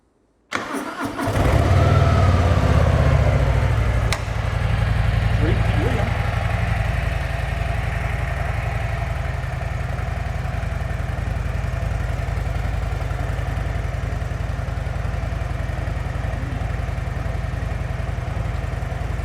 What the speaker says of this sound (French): pour démarrer la moto, j'ai juste une clé dans la poche